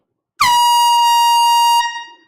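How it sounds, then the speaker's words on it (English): A single loud air horn running low on air blasts, holding steady for about a second and a half, then trails off into silence. "we bring out the air horn"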